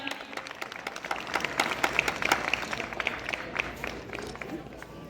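Audience applause at an academy event in Shamli, a steady wash of clapping with some crowd noise, moderately loud and sustained throughout.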